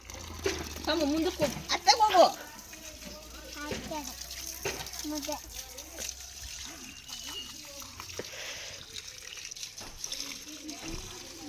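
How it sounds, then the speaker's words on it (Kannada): Water trickling and splashing onto a rose plant in a village garden, soft and intermittent beneath frequent conversation and a voice. "ಯಶು ಏನು ಮಾಡ್ತಿದ್ಯಾ ನೀರು ಹಾಕ್ತಿದ್ಯಾ"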